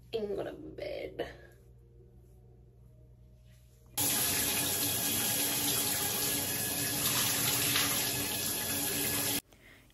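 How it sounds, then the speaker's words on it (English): Loud, steady shower spray of running water starting abruptly after a few seconds of quiet room sound with brief speech, then continuing close and unbroken before cutting off near the end. "we're about to get in the shower and wash this hair"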